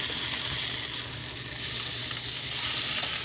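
Steady, moderate sizzling of a garlic herb stuffed salmon fillet searing in a hot pan, a constant hiss with faint crackle and a small pop near the end, heard alone without talk.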